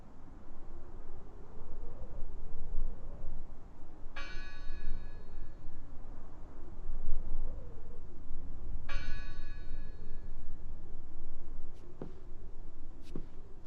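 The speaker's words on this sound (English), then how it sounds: "Listen! The bell!" A bell in the horror video game Draugen rings twice, several seconds apart, each strike bright and ringing out over a steady wash of ambient noise, with no talking.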